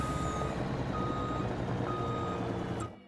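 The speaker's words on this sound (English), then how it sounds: "Oh, the truck was still rolling." A truck in Farming Simulator 25 backs up with steady, evenly spaced reversing beeps over a low engine rumble, heard close before the sound cuts off abruptly near the end.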